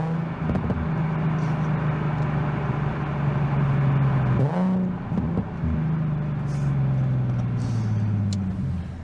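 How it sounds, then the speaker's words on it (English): A Nissan 370Z with its VQ V6 idling at a steady low hum, then blipped once midway in a quick rev that rises and falls back to idle, heard close and alone. "I personally think VQs are a very good sounding engine"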